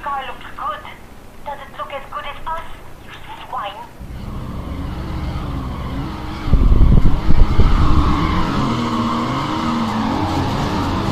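Race car engine roars and tires squeal as the car spins out during a street race in the Midnight Club 2 video game, loud and rising midway, with someone talking over it at the start.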